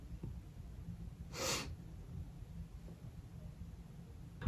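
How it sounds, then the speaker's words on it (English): A person takes a single sharp sniff, a short breathy burst of air through the nose standing alone in an otherwise quiet room. "Can you spell the sound of a sniff?"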